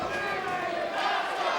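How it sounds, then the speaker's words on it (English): A wrestling crowd at an indoor Ring of Honor event roars in a dense, continuous wall of cheering for Tyler Black, steady and sustained throughout. "So once again, you hear this crowd getting behind Tyler Black."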